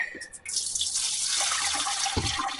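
Liquid poured into the engine of a 1944 John Deere BW tractor and draining out the bottom, a steady close splashing, trickling wash that runs without a break for the whole stretch.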